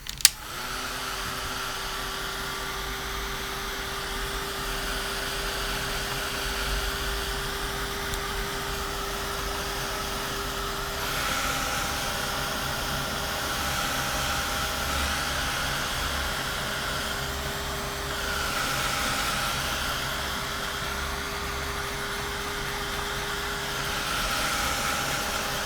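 A heat tool blows steadily on Distress Oxide ink droplets in a craft background technique, a continuous close whirring hiss that holds for the whole stretch with slight swells.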